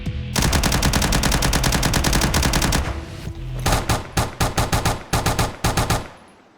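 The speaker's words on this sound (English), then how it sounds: "it shoots like 3 bullets and then it stops, and then it shoots 3 bullets and then it stops" A gun in the Roblox game BRM5 fires a long sustained automatic burst, then a series of short choppy bursts of a few rounds each, loud and close with no voices.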